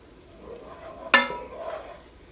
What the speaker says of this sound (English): the butter is fully melted, and what I'm doing is I'm slowly stirring in the flour